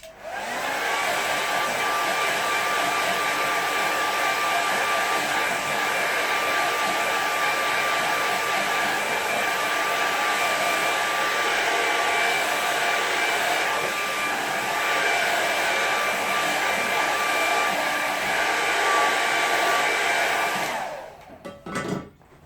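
A hair dryer blasts watercolour paper on a board, a loud steady close whoosh and motor whine running without pause for about twenty seconds before cutting off with a few handling clunks.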